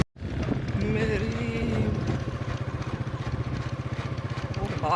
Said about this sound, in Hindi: भाई मोटरसाइकिल लगता है